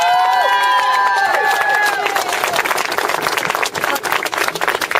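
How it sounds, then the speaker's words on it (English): Crowd at a Scottish rally in Glasgow about Gaza breaking into applause and cheering, a dense wash of clapping that builds as a tonal sound fades out early, continuing loud throughout. "So give yourself a round of applause."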